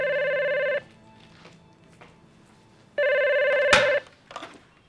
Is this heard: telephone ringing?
yes